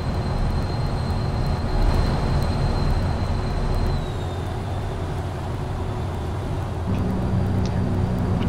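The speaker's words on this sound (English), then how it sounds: "What you hear now is the Jake brake." A truck in American Truck Simulator rolls along with its Jake brake engaged, a continuous loud engine and road rumble with a droning tone that shifts pitch midway, heard without any talk.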